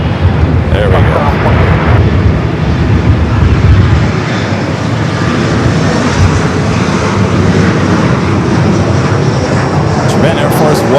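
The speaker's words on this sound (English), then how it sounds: "Japan Air Force One, the 777, the 300ER" A Boeing 777-300ER jet departs LAX airport with a loud, steady roar of engines that fills the whole stretch, and a voice talks over it.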